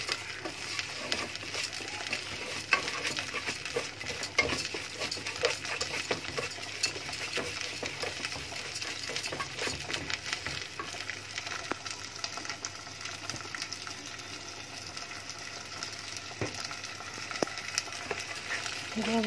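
Food being stirred and sautéed in a pan, with white beans, rice and akawi on the stove, gives a steady, continuous sizzle with irregular scraping and stirring clatter throughout, fairly close and even in level.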